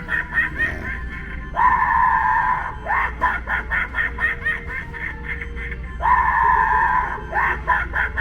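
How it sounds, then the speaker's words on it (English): A person screaming near a Halloween scene at the Franklin Mills mall in Philadelphia: two loud, sustained shrieks separated by bursts of shrill, laughing yelps, close and prominent. "You're screaming."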